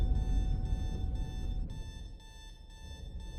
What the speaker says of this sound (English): Is that literally an alarm clock?